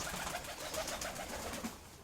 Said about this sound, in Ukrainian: І в нижній буці так само сидять. Ці голубя тут.